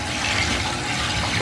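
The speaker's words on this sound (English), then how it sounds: "Let me rinse his butt." Running water splashes steadily into a bubble bath as a monkey gets rinsed, a close, continuous gushing pour with no voices.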